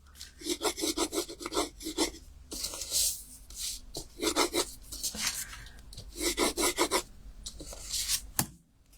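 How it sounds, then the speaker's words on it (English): Edges of a paper floral sprig card being rubbed down by hand, bursts of quick, dry rasping strokes in close, rhythmic runs with short pauses between them. "I'm just going to rub my edges down."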